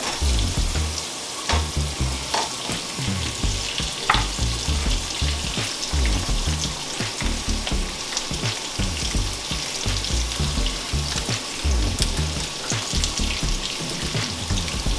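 Carrots cook down in a hot pan with a steady, dense sizzle and crackle lasting throughout, close and fairly loud, with occasional soft clinks and scrapes but no talking.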